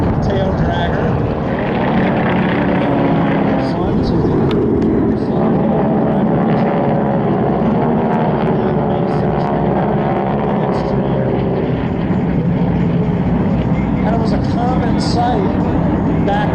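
A BT-13 basic trainer, a fixed-gear taildragger, drones past at an airshow with a loud, steady radial-engine roar and propeller buzz that fills the whole span, with voices faintly mixed in.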